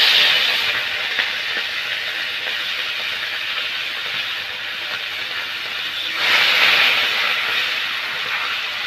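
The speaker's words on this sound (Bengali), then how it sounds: "এবার ভেজে নেব চিংড়ি মাছটা" Prawns, cleaned and rubbed with turmeric and salt, frying in hot oil for a Bengali lau chingri ghonto, giving a steady close hiss and sizzle that swells louder near the end, with no talking.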